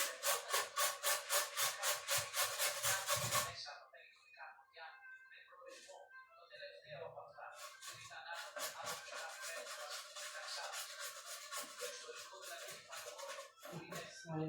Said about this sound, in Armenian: Գազարը քերել